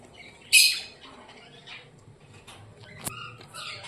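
An adult pet bird gives a sharp, loud squawk near the start, followed by a few quieter chirps and shorter calls close by in an otherwise quiet room.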